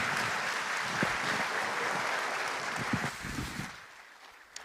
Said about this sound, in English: give a round of applause to the one and only Aliko Dangote